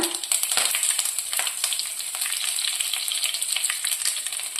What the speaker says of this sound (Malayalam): കടുക് ഇട്ട് കൊടുക്കാം കാൽ സ്പൂൺ ഉലുവ ഇട്ട് കൊടുക്കാം അതിലേക്ക് ഒരു തണ്ട് കറിവേപ്പില